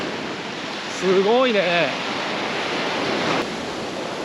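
Rough, heavy sea surges steadily along a bay shore on Iriomote Island, a broad continuous roar with wind, while a voice briefly speaks over it.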